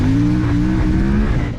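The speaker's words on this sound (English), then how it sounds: "it's so much fun to spin the tire up in this thing" An Ibex 450 motorcycle engine revs hard while its rear tire spins on a gravel road, a loud, close, sustained droning roar with a slightly wavering pitch that fades a little at the very end.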